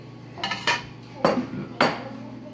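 Quinoa is stirred in a cooking pot, producing a few distinct scraping clinks of a utensil against the pot, spaced about half a second apart, close and fairly loud.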